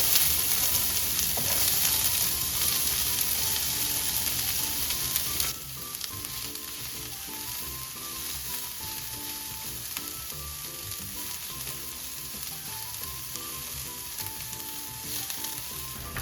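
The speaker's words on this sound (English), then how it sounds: "Once our oil has warmed up, we'll go ahead and add our chopped onions into the pan." Chopped onions sizzling in warmed oil in a pan, a steady close frying hiss that drops a little in level partway through, with soft music playing underneath.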